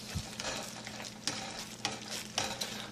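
Rice in a pot is stirred with a utensil, giving soft repeated scraping strokes over a steady low sizzle, close and fairly quiet, with no talking.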